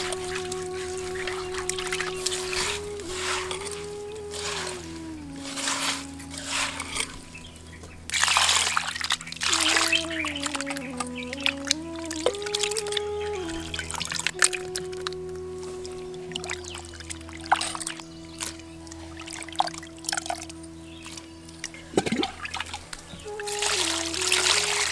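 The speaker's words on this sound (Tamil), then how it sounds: "ஒரு கைப்பிடி அளவு சாம்பல் சேர்த்து மீனை நல்லா பெரட்டி தண்ணி ஊத்தி கழுவ ஆரம்பிச்சிடலாம்" Water is poured and splashed over fish being scrubbed with a handful of ash in a kitchen, with intermittent trickles and wet handling sounds over a steady background hum and tonal noise.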